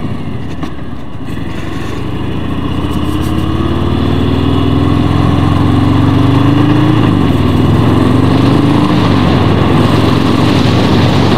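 A 2018 Harley-Davidson Fat Bob 114 engine runs steadily and loudly throughout, a deep continuous rumble with a rising and falling tone as the revs change, heard alone with no voices.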